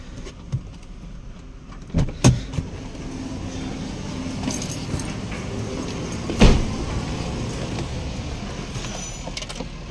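Inside a car with the ignition switched on, a few sharp knocks come from behind the passenger side, spaced irregularly over a steady low hum.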